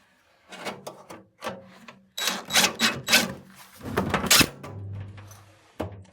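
A screw is driven in to put a motor part back together inside a microwave and toaster combo. It makes close, scratchy, rasping bursts and plastic clicks in short irregular runs, with a low rattle near the end and no voices.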